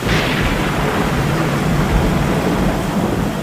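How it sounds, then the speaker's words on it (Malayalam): Thunder rumbles deep and close over heavy rain in a sound effect backing a storytelling narration. The roll and the downpour run loud and unbroken throughout, with no voice over them. "മഴ പെയ്യുന്നു എങ്ങും കൂരിരുട്ട് മിന്നൽ പിണരുകൾ വഴിതെളിച്ചു"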